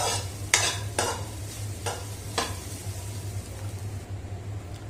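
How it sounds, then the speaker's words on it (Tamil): Grated coconut roasting lightly in ghee, several sharp spatula scrapes against the pan in the first half over a soft steady sizzle and low hum, close by. "லைட்டா நம்ம நெய்ல வறுத்தோம் அப்படின்னு சொன்னா இந்த பிளேவர் நல்லா இருக்கும்"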